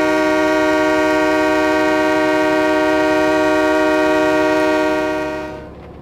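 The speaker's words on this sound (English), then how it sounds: "Got to remember to honk at these crossings," One long, loud train horn blast at a crossing in the Train Mechanic 2017 rail simulator, holding as a steady chord before fading out near the end, with no voices.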